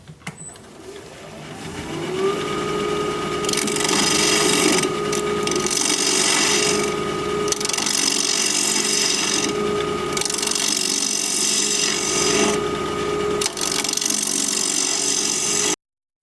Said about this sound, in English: We're going to be turning at 1400 RPM, 1/2 inch standard grind bowl gouge,